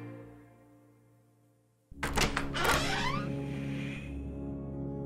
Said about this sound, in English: There is a loud banging on your door